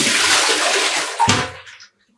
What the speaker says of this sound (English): I'm just pouring that out.